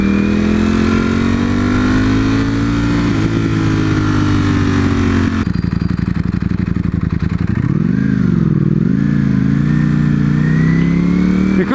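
Superbike engine while riding, a loud continuous droning hum with rising and falling pitch as the revs change, then a shift into a rougher, buzzier tone partway through, steady and close with no talking.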